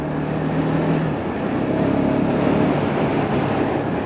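KTM 690 Duke single-cylinder naked motorcycle on a ride, a steady loud engine drone with wind rush running unbroken throughout.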